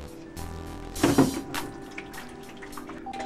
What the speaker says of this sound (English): While I suck out the water,